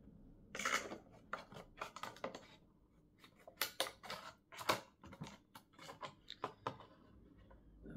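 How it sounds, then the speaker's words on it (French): Scissors cut through a small diamond-painting canvas, a close series of crisp snips and scrapes in uneven rhythm, fairly quiet, with no talking. "on va couper tout de suite"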